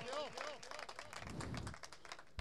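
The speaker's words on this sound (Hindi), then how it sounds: "तालियां मारो।" A church congregation claps hands together during a sermon on Old Testament fasting, a brief burst of clapping under a preacher's voice.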